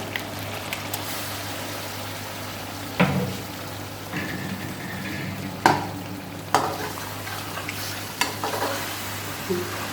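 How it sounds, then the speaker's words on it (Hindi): Ground boiled spinach fries with partly cooked potatoes in a pot, a steady sizzle punctuated by a few scraping stirs of a spoon, with no talking. "जो पालक मैंने उबाली थी उसे ग्राइंड कर लिया और इसके अंदर मैंने डालकर थोड़ी देर के लिए इसे भूनना है।"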